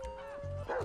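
A dog in Grand Theft Auto V gives a short, close yelp with a whining tonal edge, followed by a second brief yip, under a second or so and heard alone.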